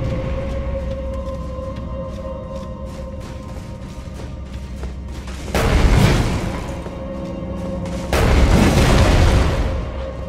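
Two loud booming blasts from the Erdtree Burial Watchdog's ranged attacks in Elden Ring, each a roaring burst lasting a couple of seconds over a steady game music drone.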